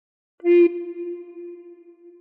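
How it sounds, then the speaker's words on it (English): A single sustained recorder note, played with fingers one to four and six covering the holes: a clean, steady tone that starts with a slightly breathy attack and holds evenly, close and alone. "Put fingers 1 to 4 on holes 1 to 4 and finger 6 on hole 6 and blow once."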